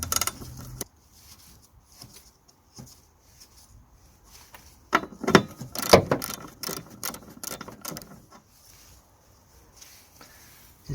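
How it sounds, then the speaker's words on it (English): A 13mm socket ratchet undoes the wiper arm nuts on a Mitsubishi Lancer Carisma, with quick metallic clicking bursts and rattles between quiet gaps, close and sharp. "It's a 13mm socket we're gonna use to undo the two nuts to release the wiper arms."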